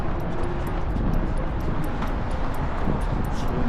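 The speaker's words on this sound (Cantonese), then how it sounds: "夜晚呢度就小心啲有狗。" A dog barks near garages and old shipyards along the Hong Kong Island waterfront, with short, faint yips under a steady wash of broadband outdoor noise.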